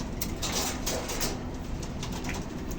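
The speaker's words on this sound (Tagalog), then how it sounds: "halos nasa 40 pieces na itong alaga ko mga kalapate dito" Several pigeons in a backyard loft of about forty birds coo softly and continuously, a low murmuring burble under steady background noise, with no talk.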